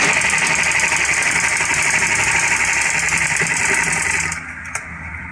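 Sewing machine stitching a trouser back pocket, a steady loud mechanical whir running continuously for about four seconds, then stopping and leaving quieter room noise with a small click.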